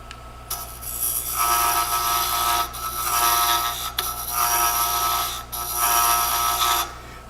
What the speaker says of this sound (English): I'm going to turn that diameter, I think, just a little bit more.